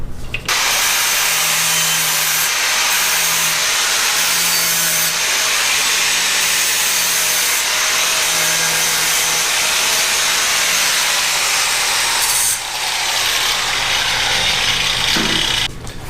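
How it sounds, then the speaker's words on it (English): A power sander grinds continuously across an aluminum marine outdrive part to prep it for welding, a loud, dense, steady abrasive hiss with a faint motor hum underneath and a brief dip near the end. "We're going to switch to the sander and sand this up and prep it for"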